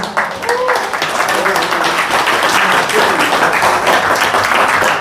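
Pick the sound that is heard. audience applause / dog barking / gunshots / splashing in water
audience applause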